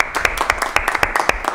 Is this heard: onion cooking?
no